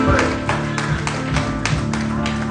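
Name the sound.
congregation applauding God in church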